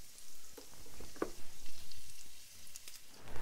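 Bob Evans pork sausage, about 12 ounces, browning in a skillet, giving a steady low sizzle with a few soft scraping stirs, close and moderately quiet, with no one talking.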